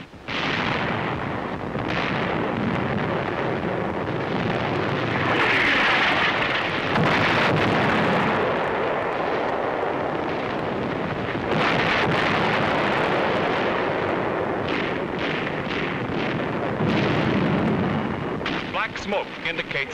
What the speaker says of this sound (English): A direct hit on an enemy 88 millimeter gun position.